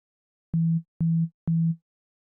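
Three short, evenly spaced notes of a pure sine wave synth bass play alone, each a clean low tone with a quick decay.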